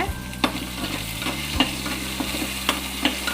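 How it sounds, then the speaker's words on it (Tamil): Curry leaves sizzling in hot oil in a pan while making sambar rice, a steady frying hiss broken by several sharp stirring scrapes and clinks at irregular intervals, close and loud with no talk. "கருவேப்பிலை போடுறேங்க."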